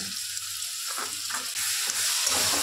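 A spice paste of chili, ginger and onion frying in a pan: a steady close sizzle with soft stirring scrapes, loud and unbroken, and no talk.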